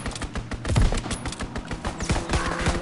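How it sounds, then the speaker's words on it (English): Rapid strafing gunfire from a fighter plane in a World War II video game, dense overlapping bursts of shots rattling steadily for about three seconds, loud and close. "Fighter pilot inbound, strafing the target."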